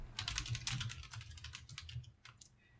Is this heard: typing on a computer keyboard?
yes